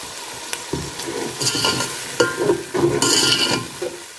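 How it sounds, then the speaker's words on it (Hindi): Water poured into spices frying in a pot for peas pulao sets off loud bursts of sizzling and bubbling, along with stirring and clinks of a utensil against the pan, close up and with no talking. "अब इसके अंदर हम थोड़ा सा पानी ऐड करेंगे।"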